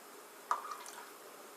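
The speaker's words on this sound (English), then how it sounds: "And then we're going to add a touch more of water or soda." A single short splash of water or soda drips into an Old Fashioned cocktail glass, one faint liquid plop over a quiet background.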